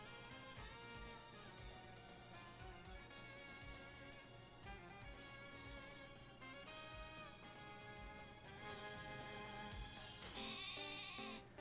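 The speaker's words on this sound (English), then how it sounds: "Look at her little shiny sheep." Sheep bleating in the Pokemon Sword video game, with repeated bleats layered over steady background game music at an even, moderate level.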